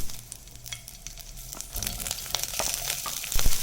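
Green chilies and onions frying in hot oil in a pan, a close, steady sizzle that grows louder as the onions go in, with occasional stirring scrapes.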